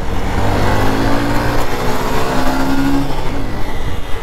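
A Yamaha R15 M motorcycle engine revs and runs steadily, loud and close with a sustained mid-pitched drone and wind rush, no talk.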